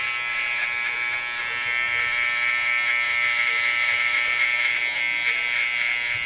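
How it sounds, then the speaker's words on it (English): A detailer hair trimmer buzzes steadily and close up as it knocks off stubble at a barbershop, a constant high-pitched electric whine with no talking. "So I'm just knocking off this stubble with the detailer"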